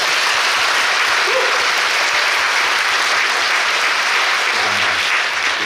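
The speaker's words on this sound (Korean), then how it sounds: "크게 한번 박수 부탁드릴게요." Theatre audience at a curtain-call stage greeting after a matinee of the musical Paganini claps loudly and continuously, a thick, even roar of applause filling the whole stretch without a break.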